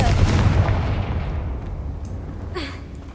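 A Confringo spell explodes in Hogwarts Legacy, a single loud, close blast that rumbles and fades over a few seconds, with a faint crackle near the end.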